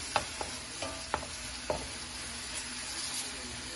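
Garlic fries in a small pan with a steady, close hiss of sizzling oil, punctuated by a few sharp clicks of a spoon against the pan.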